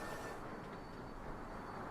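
A train running in the rail-building video game Sweet Transit, a steady, faint rumbling rail drone with no distinct clacks.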